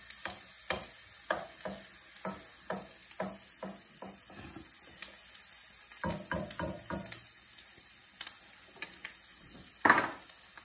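Onions sautéing in a butter and oil mix, stirred in a pan with a utensil, giving a steady run of close scraping and knocking strokes over a soft, continuous sizzle, with a louder clack near the end.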